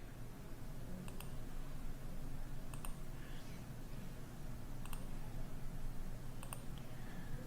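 Sharp computer mouse clicks come in a sparse, irregular series of four or five, close and distinct over a steady background hiss while a file is saved in SolidWorks CAD software.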